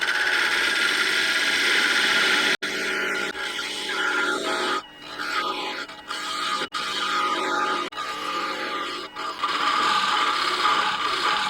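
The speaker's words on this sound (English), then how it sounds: "We need to turn the lathe speed up pretty high." Wood lathe spun up to about 85% speed while turning a Christmas ornament finial, a steady broadband whir with tool rubbing and scraping against the wood, briefly dipping at intervals, with no talking.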